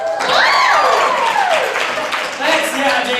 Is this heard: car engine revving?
no